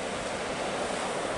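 Sea waves wash onto the shore at Tenby, a brief steady roar of surf with some wind noise, moderately loud and without speech.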